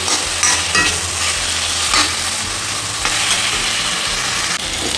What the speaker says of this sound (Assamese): ইয়াত দি ল'লোঁ কচু লগতে গা খাবৰ কাৰণে এটা আলু দি দিছোঁ মই অকণমান এতিয়া ভাজি ল'ম